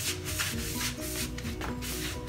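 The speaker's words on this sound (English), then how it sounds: "I kind of scrub the whole tiles to remove the stains." A green scrubber is worked back and forth over wet white marble floor tiles, making steady, close, rhythmic rasping strokes that continue throughout without talk.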